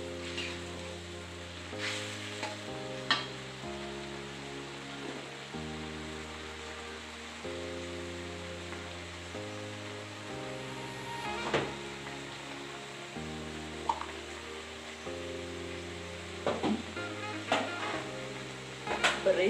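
Bay leaves and galangal fry in oil for balado terong, giving a soft steady sizzle with occasional stirring scrapes and taps.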